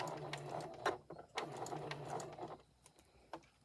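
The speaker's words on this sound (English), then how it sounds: "I'm going to start at 1/4 inch and I'm going to back stitch" A sewing machine back stitches the fabric of a memory bear at a quarter inch in a soft, rapid run of needle clatter that stutters and changes pace as it reverses, close but quiet, then fades into near silence.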